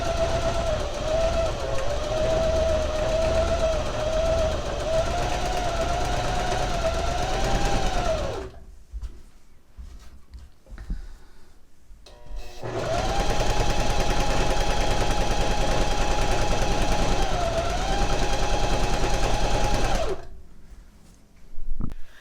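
Sewing machine stitching the edging of a fabric infinity scarf, running in two long, steady, close bursts of rapid stitching separated by a brief pause.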